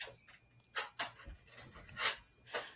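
Dogs indoors whimper and pant in several short, breathy bursts, spaced irregularly and fairly faint, with no talking over them.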